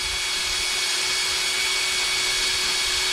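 A power tool spinning a 240 grit abrasive to polish a port hums with a constant high-pitched whir and a steady tonal whine, close and unbroken throughout.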